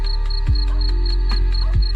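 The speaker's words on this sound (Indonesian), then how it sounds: "Ditemani suara jangkrik di luar jendela." Crickets chirp outside a window at night in a steady, continuous high trill, joined by a low constant hum and a few soft swooping sounds.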